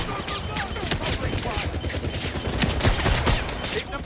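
Rapid automatic gunfire rattles in the video game 007 First Light, a dense fusillade of sharp cracks with scattered impacts, fairly close and continuous over a few seconds, without speech.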